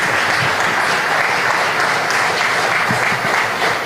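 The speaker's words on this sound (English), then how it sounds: "Another round of applause for Edison Seferino Coleman." Loud, sustained clapping from the audience at a national award tribute in Belize, many hands together at an even, busy pace throughout.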